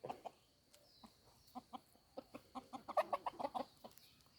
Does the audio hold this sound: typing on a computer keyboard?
no